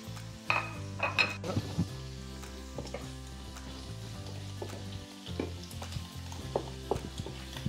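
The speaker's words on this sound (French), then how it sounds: "Mon huile est chaude, je reverse à nouveau mes fruits de mer et celle-là également." Seafood dusted in flour for infarinata sizzles in hot oil, with a steady close crackle punctuated by clinks of utensils and pan knocks.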